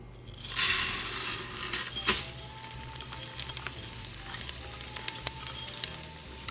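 Washed rice is poured into hot oil in a stovetop pan for Mexican red rice and bursts into a loud, close sizzle, which settles into a softer steady frying hiss with light crackles and pops.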